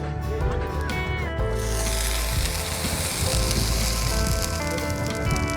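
Mustard oil heating in a pan outdoors for frying marinated fish, giving a steady, loud, hissing sizzle that runs the whole time, with a faint tonal hum underneath and some background activity.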